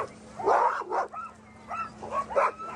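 Excited sled dogs bark, yip and whimper in overlapping bursts at the start chute of the Kuskokwim 300 sled dog race, a busy pack of several dogs at moderate distance over a steady low hum.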